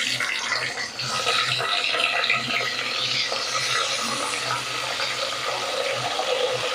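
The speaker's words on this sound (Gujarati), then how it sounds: "ચડી જાય એ માટે થોડુંક પાણી નાખી દેવાનું, નીચે દાગ ન બેસે।" Water is poured into a pan of stuffed whole green chillies frying in a mustard, cumin and fenugreek tempering, a steady close splashing stream lasting several seconds without speech.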